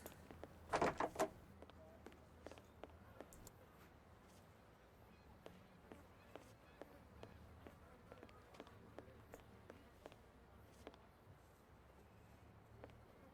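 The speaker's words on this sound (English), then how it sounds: "Oh, another door." A door opens in the Sherlock Holmes: The Awakened game with a loud cluster of knocks and scrapes near the start, followed by quiet ambience and faint scattered ticks and taps.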